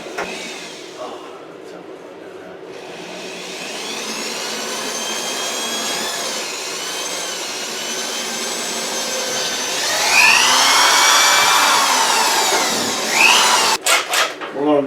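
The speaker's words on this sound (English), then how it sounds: "We're going to drill this outside hole now." A power drill with a very long bit whines steadily for several seconds drilling a pilot hole through a wall, rising in pitch and strain near the end before cutting off with a few clicks.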